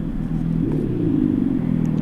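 A Revolt RV 400 electric motorcycle starts up with its simulated engine sound, a close, low, rumbling tone that rises and shifts in pitch for a couple of seconds as if revving.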